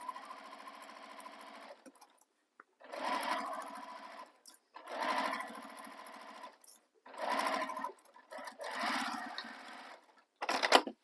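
A home sewing machine stitches across a handbag seam in four long bursts of fast, even whirring, each separated by a brief pause, close and clear with no talking.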